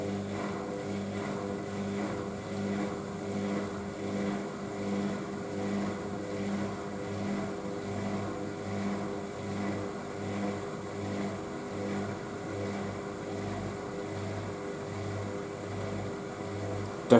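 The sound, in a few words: Indesit IWC6165 washing machine final spin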